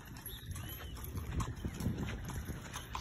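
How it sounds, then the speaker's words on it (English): Horse hooves clip-clop steadily as a horse cart rolls along outdoors in Georgetown, Guyana, with background chatter and street noise around it. "She's on a horse cart."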